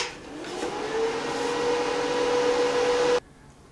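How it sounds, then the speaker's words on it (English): Loud, close whine of the cooling fan in a Simder 160 IGBT arc welder spinning up after switch-on, with a steady hum and rising tone that cuts off abruptly when it shuts down. "I think this fan is really, really loud on this thing"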